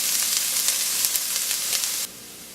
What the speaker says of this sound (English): Our onions have been sauteing kind of gently for about 8 minutes